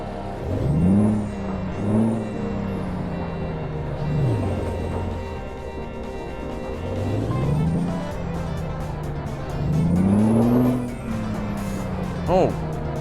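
Heavy truck engine in American Truck Simulator revving up and down in repeated swells, with a steady rumble between revs and a short air-brake hiss near the end.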